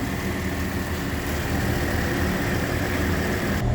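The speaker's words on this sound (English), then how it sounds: "a shot of the motor running" A 2018 Toyota Corolla engine idles steadily, a continuous low rumble heard close up with no other sounds.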